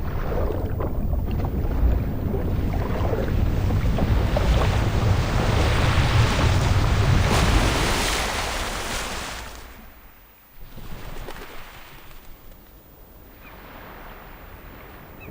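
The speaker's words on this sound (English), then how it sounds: "The waves are gently washing over the body." Waves wash up on a beach in the game Reverse 1999, a loud, steady rush of surf and wind that fades after several seconds, followed by softer, separate swells breaking and receding.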